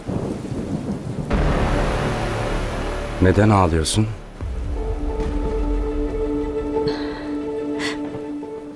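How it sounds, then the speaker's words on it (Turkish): Heavy rain pours steadily while thunder rumbles, and a person briefly speaks over the downpour. "Yağmur yağıyor"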